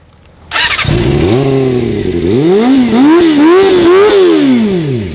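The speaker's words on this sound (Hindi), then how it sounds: "सेकंड साउंड मैं आपको सुनाता हूँ इस बाइक का, बैंडिट का।" Suzuki Bandit 250 motorcycle engine starting abruptly and then revved repeatedly, its four-cylinder note rising and falling in loud, close blips with no talking.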